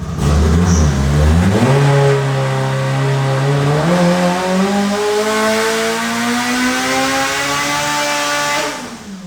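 A Ferrari with a swapped Honda K24 four-cylinder engine revs hard on a dyno, a loud, close, continuous rising wail that climbs steadily toward about 8,500 RPM, then cuts off sharply at the end.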